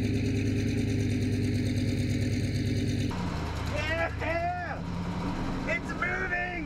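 A Chrysler 440 engine in a Pace Arrow motorhome runs steadily close by, its droning hum continuing beneath people talking for the rest of the stretch.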